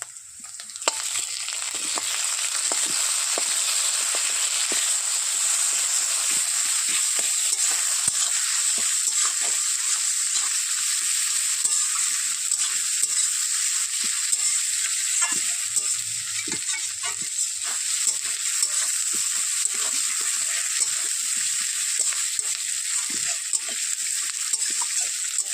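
A fish head fries and gets stirred in a hot pan, with a steady loud sizzle running throughout and scraping stir sounds breaking through it now and then.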